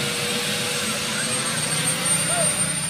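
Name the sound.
army helicopter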